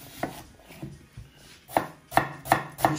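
Knife slicing onions finely on a cutting board: sparse taps at first, then a quicker run of sharp, evenly spaced chops close by.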